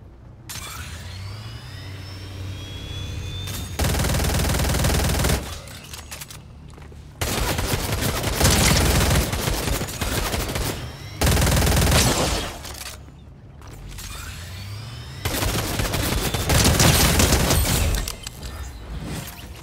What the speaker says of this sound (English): All you have to do is hold it down and shoot him.